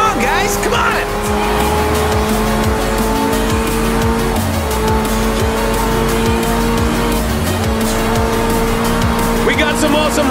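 Hypercars and racing trucks roar through a street race in Forza Horizon 4, with dense, continuous engine noise and tire squeals, loud and close, under steady talk.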